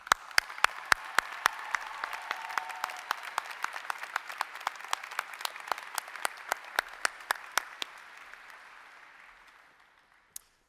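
Audience applause for faculty at a college commencement ceremony, a steady wash of clapping from a large crowd with sharp claps on top, holding for most of the span before thinning out and stopping near the end.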